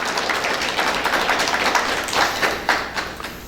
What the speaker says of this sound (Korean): 우리 성가대원들에게 감사와 축복의 박수 한번 하겠습니다